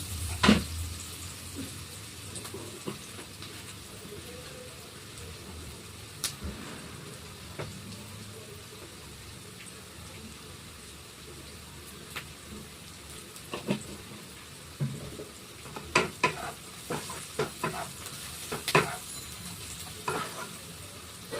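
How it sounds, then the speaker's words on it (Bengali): Onion frying in a pan gives a steady, soft sizzle throughout, broken by scattered clinks and scrapes of stirring that grow busier toward the end. "পেঁয়াজটা একদম লাল লাল ভাজা হবে"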